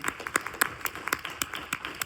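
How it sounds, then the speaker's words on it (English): A film festival Q&A crowd gives applause, sparse, distinct hand claps from a small audience in a room, irregular and moderately loud. "Big round of applause for Natasha."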